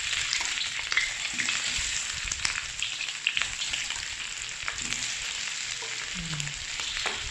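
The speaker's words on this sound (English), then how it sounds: "Now this is how you fry them. Don't put the egg white in, just the" Salted egg yolks, without their whites, fry in cooking oil, giving a steady, close hiss with small crackles and pops that runs unbroken throughout.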